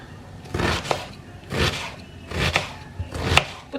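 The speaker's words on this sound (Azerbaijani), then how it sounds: "Bir də soğan doğrayıram." Onion being chopped with a knife in a home kitchen: four evenly spaced, fairly soft cutting strokes, each a short scraping thud, heard alone with no talk.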